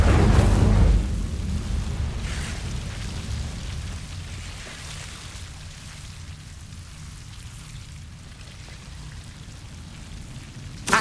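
Incendio fire spell cast in the Hogwarts Legacy video game, a loud whooshing flare at the start that settles into a long, softer crackling rumble and fades out, with a brief burst right at the end.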